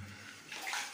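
Water trickles and drips inside an old bomb shelter in central Vologda, heard as a steady, close watery hiss that swells slightly toward the end, with no voices.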